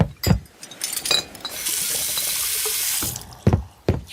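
Water running from a tap, a steady hiss of flow for about a second and a half, framed by clunks and handling knocks before and after.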